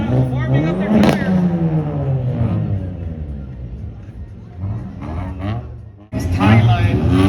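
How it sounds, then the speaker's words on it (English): Toyota and Honda race cars rev and warm up their tires, engine notes sweeping up and down in loud, close bursts with a sharp cut near the end before the roar resumes, mixed with crowd chatter and talk. "Toyota and Honda warming up their tires."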